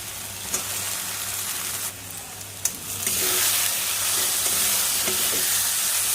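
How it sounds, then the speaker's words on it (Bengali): Kashmiri chili powder masala and fried potatoes sizzle and get stirred in a pan for a katla fish kaliya, a steady close frying hiss that grows louder partway through, broken by a few scraping stirs. "আলু দিয়েও খুব ভালো করে মশলাটা কষে নেব"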